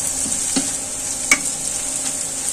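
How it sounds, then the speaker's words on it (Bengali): Potato pieces fry with salt in a pan, giving a steady close sizzle broken by a few light stirring knocks. "এখন আমি এটা সুন্দর করে ভেজে নেব।"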